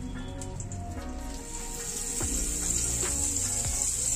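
Amul butter and a little oil sizzle steadily in a hot pan, a continuous close frying hiss with faint crackles that grows slightly louder partway through, with no talking.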